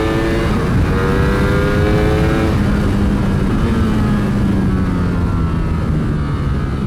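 A Ducati Streetfighter V4S motorcycle engine roars at high revs on a race track, a loud, steady, close-up howl with pitch rising and falling through the gears.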